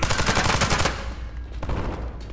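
Gunfire behind the players in a video game extraction shooter, a loud rapid burst of automatic shots for about a second, then a few fainter scattered shots, with no voices.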